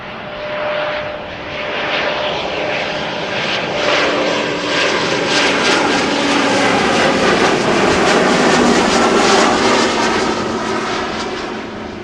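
A Boeing 777 jet at Amsterdam Schiphol Airport roars past, a loud broad engine rumble and whine that swells and stays strong for several seconds before easing slightly.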